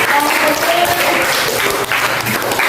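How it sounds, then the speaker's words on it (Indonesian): A classroom of middle-school students claps for a classmate, a dense burst of close, steady applause lasting a few seconds without pause. "beri aplaus buat temannya itu"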